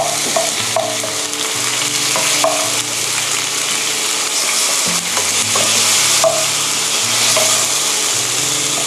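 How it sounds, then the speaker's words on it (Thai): Pork stir-frying in sauce for Japanese-style sukiyaki sizzles loudly and continuously, with repeated scraping strokes of a utensil against the pan throughout. "ผัดให้หมูสุกนะคะ"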